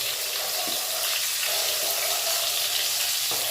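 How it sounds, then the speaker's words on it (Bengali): Whole onions frying in hot oil give a steady, close sizzle and crackle that runs unbroken, with a couple of faint clinks and no voices. "এবার এই তেলের মধ্যেই আমি এরকম গোটা পেঁয়াজগুলো ভেজে নেব"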